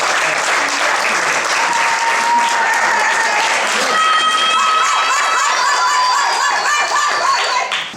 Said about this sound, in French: je mets sans doute un applaudissement